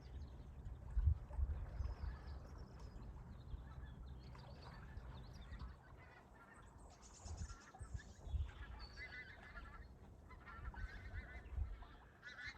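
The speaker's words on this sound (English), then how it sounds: "Another load of geese going back to Canada." Geese honk repeatedly at a moderate distance, several calls overlapping over a low, steady rumble of background noise.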